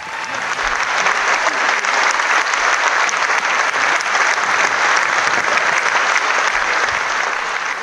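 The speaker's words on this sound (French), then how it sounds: "Un tonnerre d'applaudissements, mesdames," Sustained applause from a music-hall audience after a rock and roll performance, steady and dense clapping filling the whole stretch at a constant level with no voices breaking through.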